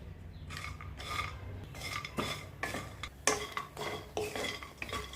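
Spices are dry-roasted and stirred in a kadhai. A spoon scrapes against the metal in a series of short, uneven rasping strokes over a faint low hum.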